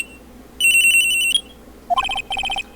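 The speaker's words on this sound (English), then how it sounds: "I received a call on my cell phone." A cell phone ringtone from the Phoenix Wright: Ace Attorney – Trials and Tribulations video game, a loud electronic trilling tone followed by two bursts of quick chiming notes, clear and close with no talking.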